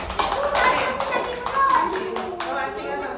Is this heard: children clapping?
yes